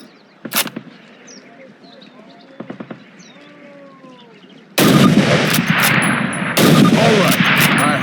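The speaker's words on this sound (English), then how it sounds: "Now fire 2 rounds at your target while aiming down your sight." Two shots from a Springfield rifle in the Call of Duty video game, fired well apart with echoing tails over game ambience, then a loud burst of battle noise takes over.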